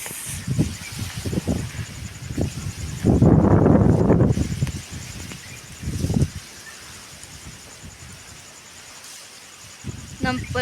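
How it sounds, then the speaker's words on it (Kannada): Strong wind gusts blow through trees and plants in a rural yard, a loud rushing surge building around the middle before easing into quieter rustling, with a voice speaking in short bursts over it. "ಗಿಡ ಪಡ ಎಲ್ಲ ಮುರಿದು ಬೀಳುವಂಗೆ ಗಾಳಿ ಬಿಟ್ಟೈತೆ ನೋಡ್ರಿ"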